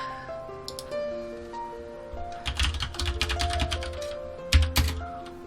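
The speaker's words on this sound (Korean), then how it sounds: "지금 보이시는 화면에다가 글씨를 타이핑하고 있습니다." Bursts of rapid clicking computer keyboard keystrokes over a soft background of sustained tones, with a louder cluster of taps near the end.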